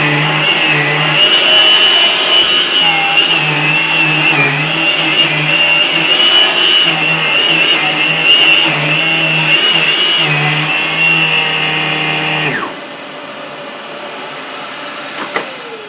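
A Vax Air Silence cylinder vacuum cleaner runs with its nozzle on carpeted stairs, a steady whining roar with slight pitch shifts as it works, then cuts off abruptly near the end, leaving quiet room tone.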